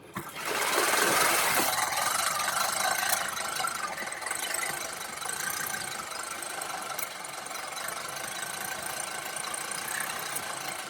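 A Scotts Classic 20-inch manual reel mower cutting a small front lawn, its spinning blades giving a steady close whirring clatter that keeps up throughout with slight swells, no voices.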